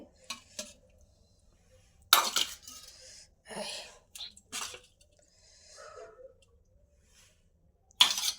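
Egg and potato curry being served into bowls, with scattered clinks of a ladle and spoon against metal or ceramic bowls, soft wet plops and pauses between, fairly close and sparse.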